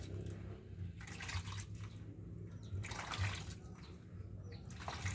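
Water pours into a cooking pot while sweet banana with coconut milk is being prepared, a continuous splashing gush with uneven surges, close and fairly faint, with low background hum and no talking.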